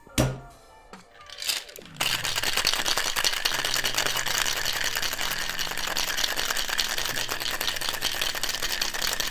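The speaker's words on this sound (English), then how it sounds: "And shake the cocktail for 10 to 12 seconds." Cocktail shaken hard with ice in a shaker while making raspberry drinks: a few handling clunks as ice goes in, then a loud, steady, rapid rattle of ice against the tin lasting about seven seconds.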